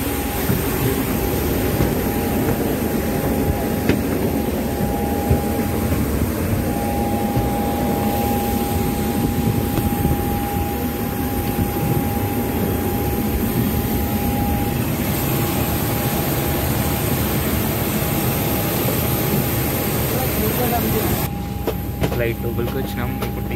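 Steady broadband cabin roar of a passenger airliner's engines, heard from inside the aircraft while boarding, continuous and fairly loud throughout with a faint tonal whine and brief shuffling near the end.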